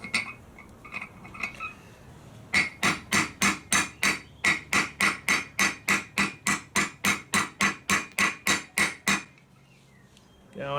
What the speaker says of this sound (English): Now, I've got to grab this hammer.